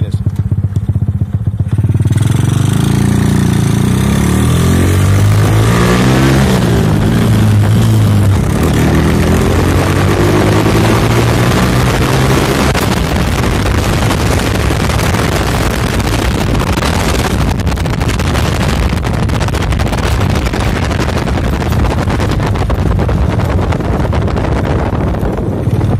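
A new moped fitted with a 57 cc kit runs during a test, its small two-stroke engine revving up and down loudly and close, with wind buffeting the microphone.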